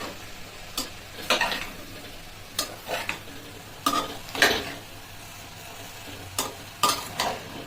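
Vegetable pulao with chicken powder is stirred in a pan with repeated scraping strokes and light clinks of the utensil against the pan, over a quiet sizzle; close, with no speech.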